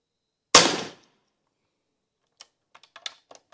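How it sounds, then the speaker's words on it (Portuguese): Air rifle shot at night firing a 6.35 mm double-head lead pellet of 51 grains at a target 10 metres away: one sharp, loud crack, then faint scattered ticks and clicks. "Agora vamos fazer uns disparos aqui a 10 metros"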